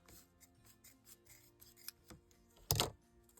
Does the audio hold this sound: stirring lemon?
no